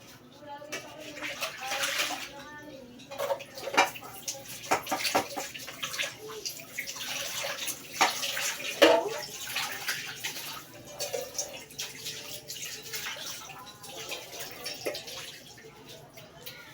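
A rice pot scrubbed under running water, with sloshing, splashing and scraping bursts that come and go, while a person talks over it.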